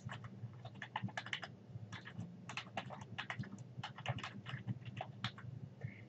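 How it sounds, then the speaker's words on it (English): Rapid, irregular keystrokes on a computer keyboard while working in a word processor, clicking in bursts with brief pauses, close and fairly quiet over a low room hum. "you can use the backspace button on your keyboard to erase. Then you can continue typing."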